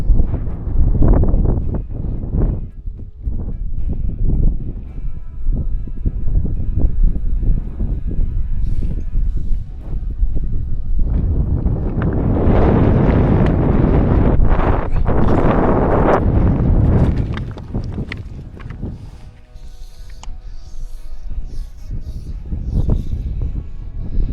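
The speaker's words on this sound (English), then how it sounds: "Wind has got that sharp biting edge to it." Gusty wind buffets the microphone at a trout fishing spot by Cow Green, loud rough rumbling that swells and eases in strong surges.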